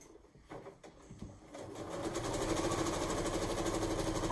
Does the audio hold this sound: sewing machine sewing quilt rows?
yes